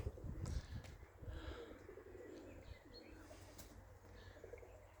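Tumbler pigeons in a loft, soft low cooing and occasional chirps close by, with faint wing flutters and quiet rustling in the background.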